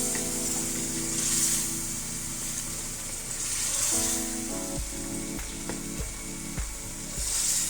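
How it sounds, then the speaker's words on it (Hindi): Chicken fries in hot oil over high heat with a dense, steady sizzle, joined midway by a rhythmic series of knocking clacks, like a spatula working the pan, repeating roughly every half second. "अब हम इसमें शामिल करेंगे चिकन। अब इसको हम अच्छी तरह से फ्राई करेंगे।"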